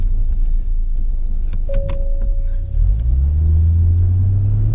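A 1990 Mazda Eunos Cosmo 20B Type S accelerates through the gears, its engine a loud, continuous low rumble that rises steadily in pitch, with a brief dip mid-way at a gear change.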